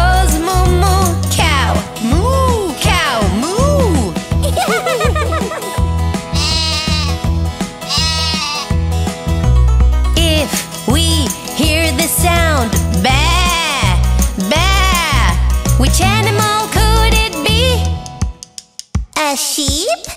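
A sheep's bleat is sung in a toddler nursery-rhyme song, with a voice imitating the bleating in repeated phrases over bright, steady music.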